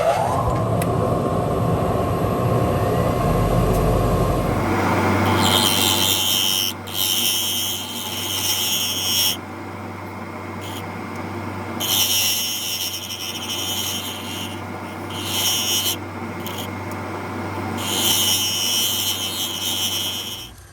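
A lathe whirs steadily with a tonal hum while turning a bacote wood part down to size, overlaid by bursts of high-pitched cutting noise that start and stop repeatedly, close by and loud.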